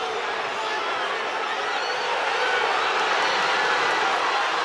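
Loud, dense crowd roar filling a college wrestling arena during a North Carolina Tar Heels versus NC State Wolfpack dual meet, steady and enveloping throughout with no pauses.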